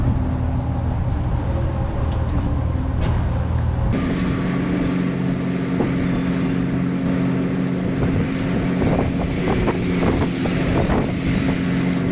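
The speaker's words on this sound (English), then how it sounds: "Another windy day here in Indiana." Steady wind roars outdoors in Indiana, buffeting the microphone with a constant low rumble and occasional gusts throughout.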